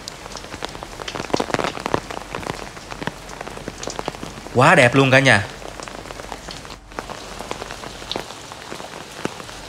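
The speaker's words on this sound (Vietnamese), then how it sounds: "Chờ hoài luôn mà không có ngớt mưa." Steady rain falling on the leaves of a bodhi tree at a Vietnamese pagoda, with dense patter and drips all around, close and continuous, while someone speaks briefly partway through.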